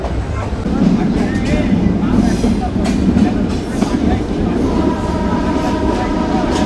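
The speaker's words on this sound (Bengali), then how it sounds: "আন্তনগর ডাউন রূপসী বাংলা এক্সপ্রেস তার যাত্রা শুরু করলো সীমান্তবর্তী বেনাপোল রেলওয়ে স্টেশন থেকে" The Rupshi Bangla Express intercity train runs out of Benapole railway station toward Dhaka, heard from on board as a steady, loud rumble of carriages with rail clatter and squeals throughout.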